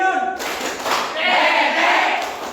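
Children clap their hands in a short rhythmic clapping game, a few sharp close claps over a brief stretch with voices in the background.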